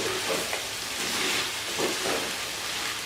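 Salted mutton karahi is mixed in a hot pan, giving a steady close sizzle and hiss with soft scraping stirs running through it and no talking.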